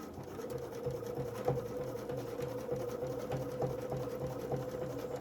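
A sewing machine top stitches along a fabric edge, running with a steady, even mechanical whir and needle rhythm, close and fairly quiet, with no talking.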